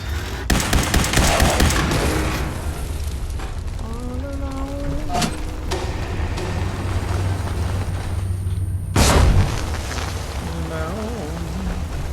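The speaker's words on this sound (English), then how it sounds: "I'm probably still going to get hit by that grenade." A grenade blast in Fallout 4 during a beach build, heard as a sharp broadband burst near the middle of the clip and another loud crack around nine seconds, over steady game ambience with scattered mechanical clicks and tones.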